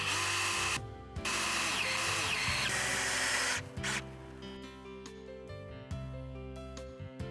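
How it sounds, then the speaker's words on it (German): Pre-drilling into fence timber with a 6 mm bit on a power drill: a loud whining burst, a brief pause, then another long burst that winds down into lighter spinning and tapping, with no voices. "Wie bei allen Holzarbeiten ist nun das erste Holz vorzubohren. In diesem Fall benötigen wir einen 6 mm Bohrer."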